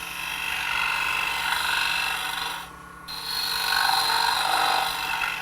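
Wood lathe spinning at 1400 RPM while a tool makes light cuts hollowing out an ornament: a steady, close rasping hiss that drops away briefly midway, then resumes.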